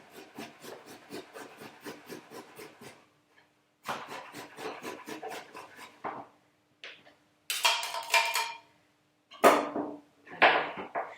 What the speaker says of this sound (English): so on the fine grater again, just grate down about a centimetre